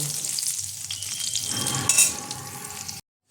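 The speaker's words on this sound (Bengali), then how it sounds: "উচ্ছেগুলো আমি হালকা ভেজে নেব। দিয়ে দেবো অল্প নুন, হালকা ভেজে নেব।" Bitter gourd pieces fry lightly with a little salt in hot oil, giving a close, steady sizzle with faint stirring scrapes and no voices. The sound cuts off abruptly near the end.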